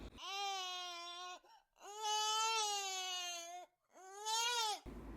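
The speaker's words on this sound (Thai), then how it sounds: "เสียงของเด็กทารกที่สิ้นลมหายใจไปแล้วจู่ๆก็ส่งเสียงร้องออกมา" A baby cries in three drawn-out wails separated by brief breaths, each cry rising and trailing off, with no talking.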